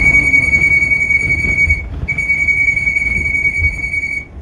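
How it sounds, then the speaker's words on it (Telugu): A bus horn on a coastal-route journey over the Kollur river bridge sounds a loud, sustained, pure musical tone, cut off briefly near the middle and then held again over engine rumble and road noise. "మా బస్సు హారన్ అయితే వెరైటీ ఉంది"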